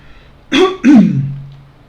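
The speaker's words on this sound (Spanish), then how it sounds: "qué pena ahí con la tos." Two short, harsh coughs in quick succession, close to the microphone, with a low trailing rasp after the second and quiet surroundings otherwise.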